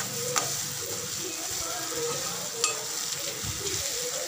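Tomatoes and onions sizzle and sauté in a covered pan for mushroom gravy, with a steady frying hiss broken by occasional stirring scrapes and light clinks.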